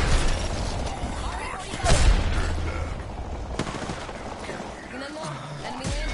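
Video-game gunfire cracks out in scattered shots and short bursts, with one heavier blast near the middle, while voices talk over the action.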